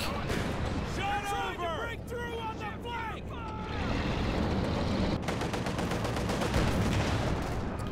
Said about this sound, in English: Sniper repositioning now to get some shots back.